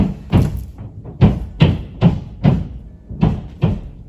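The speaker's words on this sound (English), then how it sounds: "Sorry for the noise on the roof." Repeated dull thuds and knocks from roof repair work overhead, about eight of them at an uneven rhythm, fairly loud with no talking.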